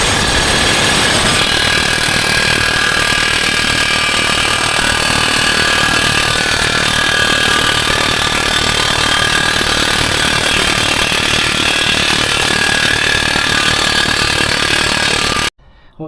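A loud air impact gun hammers continuously for about fifteen seconds while a front wheel bearing is driven out of the steering knuckle on a Mercedes-Benz W212 E250 4matic, then stops abruptly.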